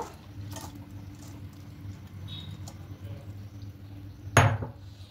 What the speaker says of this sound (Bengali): তা এবার একটা ছাঁকনির মধ্যে ঢেলে নেব